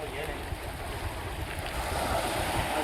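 Sea waves wash steadily over rocks worn and hollowed by the water along a coast near a lighthouse, a continuous broad rushing surge that swells slightly louder toward the end.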